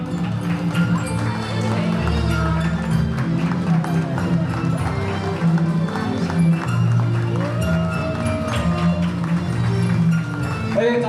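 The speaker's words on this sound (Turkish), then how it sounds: "Evet alkışlarınız devam ediyor" Guests at an engagement ceremony in Yozgat, Turkey, keep up steady, rhythmic clapping for the bride and groom over loud festive music, with an announcer's voice talking throughout.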